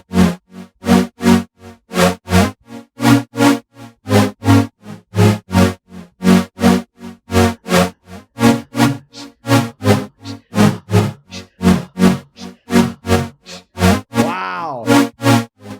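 A synth pad pulses in a syncopated 3/4 feel, its LFO mapped to phase. The chord stabs are evenly spaced, loud and close, and a short wobbling swell comes near the end.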